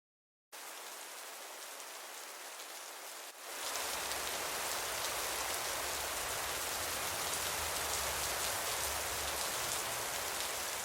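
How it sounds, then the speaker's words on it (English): Heavy rain pours steadily as a dense broadband roar, beginning quietly and swelling louder after a few seconds, then holding constant and close with no voices. "I can't remember when it rained this much."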